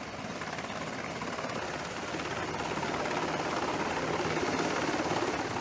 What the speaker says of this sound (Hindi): आइए जानते हैं किन किन खूबियों से लैस है रोमियो हेलीकॉप्टर।